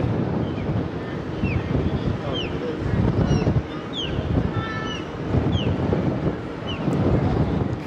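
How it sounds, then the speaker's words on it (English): Steady wind buffets the microphone in loud rumbling gusts on a cruise ship near a waterfront bar and grill, with faint chirping birds and a distant outdoor hum beneath. "I'm sorry about the wind. That's going to be really loud"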